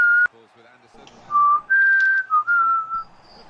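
A person whistles a short, wavering melody of several sustained notes, loud and close, after a brief sharp click and some low chatter at the start.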